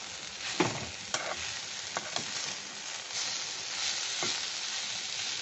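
A spoon stirs and scrapes through papaya upma in a pan with a steady low sizzle underneath, the occasional sharper scrape standing out close by.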